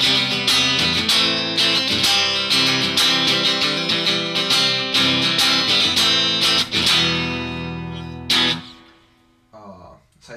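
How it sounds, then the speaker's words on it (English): A Crafted in Japan Fender Jaguar electric guitar on the neck pickup with the cut switch engaged plays a busy run of bright, quick notes and strums, then stops abruptly, leaving a few faint sounds. "If you play with the neck pickup and the cut on, and just the neck pickup on, it sounds more or less like this."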